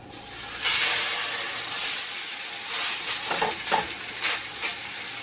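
Pork tenderloin sears in hot oil with a loud, close sizzle and hiss, swelling and crackling in bursts as the meat is moved around the pan.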